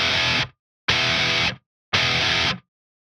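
Distorted electric guitar plays three loud chord stabs for a rock riff, each choked off abruptly by the picking hand slamming down, leaving clean silence between hits.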